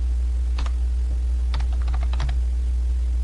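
A few soft computer keyboard keystrokes tap out in a short cluster over a constant low hum, a single click first and then a quick run of presses.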